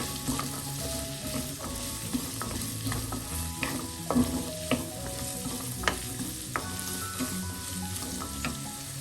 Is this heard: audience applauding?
no